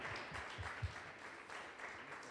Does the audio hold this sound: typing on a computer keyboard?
no